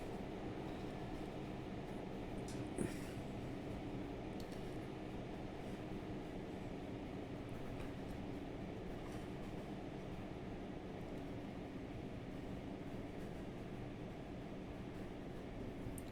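An NPC train near Bromley South in Train Simulator Classic, on the Orpington to London Victoria route with a Class 411, gives a steady low rumble of rolling wheels. The sound stays even and moderately quiet, with no talk.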